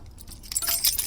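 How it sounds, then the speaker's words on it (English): A bunch of keys jangles as it is drawn out of a trouser pocket, a brief close metallic clinking and rustle that builds over about a second. "reached into my pocket for my keys"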